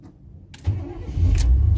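A truck engine fitted with a lawn mower fuel pump cranks briefly after a quiet start, then catches and settles into a loud, steady low running rumble.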